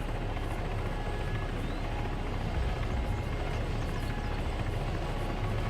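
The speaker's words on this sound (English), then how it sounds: "Go ahead and get in that helicopter." A helicopter in a military-style video game drones steadily throughout with a constant low rotor and engine rumble, moderately loud and uninterrupted, with no other sounds standing out.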